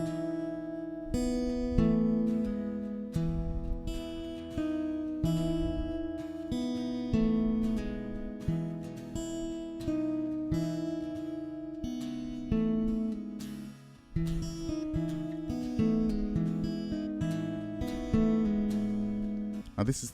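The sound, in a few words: guitar playing a song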